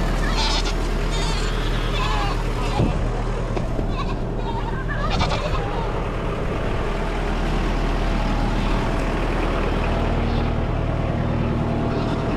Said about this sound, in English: here comes all the goats